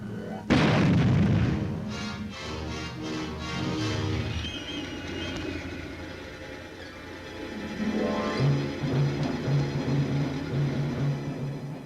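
A tank gun fires during a Canadian Army armored demonstration: one loud, sudden boom followed by a long rumbling decay, then music-like tones in the background.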